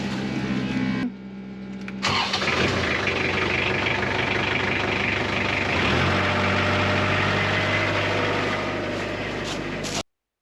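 Pump running steadily while emptying the clean side of a tank, a continuous loud motor drone with a brief lull near the start, then resuming and cutting off at the end.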